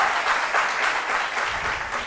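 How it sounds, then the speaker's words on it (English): Steady applause from an audience greeting a girls' secondary school quiz team at a school quiz contest, dense clapping that stays even and fairly loud for the whole stretch with no talk over it. "A round of applause for them, please."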